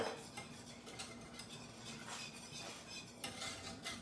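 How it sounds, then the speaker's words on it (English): Cheese sauce with brown butter whisked in a pan, a steady quiet scraping swish with faint metallic taps and a soft sizzle beneath, no talking. "And I just wanna keep whisking. I wanna make sure I don't have any lumps in there."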